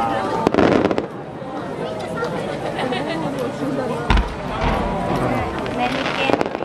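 Fireworks bursting over the Nishio Yonezu river festival in Japan, sharp cracks and thuds popping at irregular intervals amid crowd chatter and people talking nearby.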